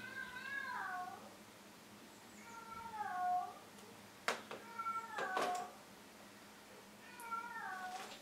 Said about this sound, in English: Cat whining again.